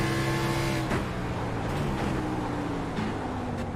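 Race car engine in the iRacing sim at Daytona road course, entering heavy braking turn 1: a steady loud droning engine with shifting harmonic pitch, a brief downshift-like break near one second, no talk.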